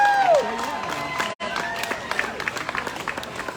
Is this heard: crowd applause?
yes